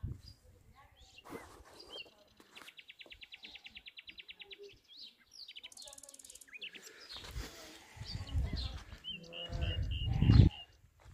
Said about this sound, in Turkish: koyun sesleri geliyor